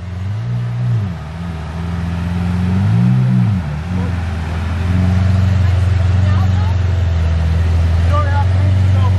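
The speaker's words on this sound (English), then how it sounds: "I get an Aventador to pull up next to me." A Lamborghini Aventador engine rumbles close by as the car pulls up alongside, its low droning pitch rising and falling through a couple of blips before settling into a loud, steady idle-like hum.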